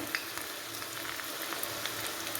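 Mustard seeds pop and splutter in hot oil while tempering a Kerala padavalanga parippu curry, a steady close-up sizzle with scattered sharp crackles and no talking.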